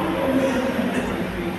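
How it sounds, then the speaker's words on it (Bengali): A metro train rumbles steadily at a station, a continuous low mechanical drone that holds at moderate loudness throughout. "ওই দিকের একটা ট্রেন চলে এসেছে"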